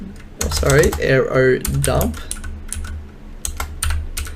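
Rapid keystrokes on a computer keyboard as a command is typed in for a WiFi penetration test, close and fairly loud, with a voice talking over the opening seconds before the clicking continues alone in short bursts.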